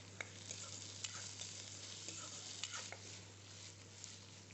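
Ginger garlic paste sizzling in hot oil in a pan while being stirred, a faint steady frying hiss with light scraping taps of the spoon, heard close and alone under a low background hum.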